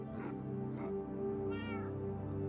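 A Minecraft cat meows a few times, short drawn-out cries over a steady low electronic hum.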